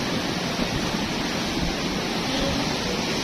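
Big ocean waves crashing against the rocky coast at Karang Hawu, a loud, constant roaring wash of surf filling the whole stretch with no pauses and no voices.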